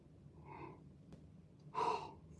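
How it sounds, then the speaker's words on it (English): A single human yawn, a soft breathy intake followed by a louder drawn-out exhale near the end, heard close and quiet with no talking. "It's like 3 yawns in like a minute and a half"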